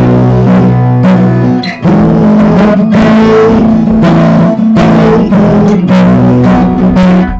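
A four-string instrument plays a pattern of chords, strummed loud and close in a steady repeating rhythm with no voices over it.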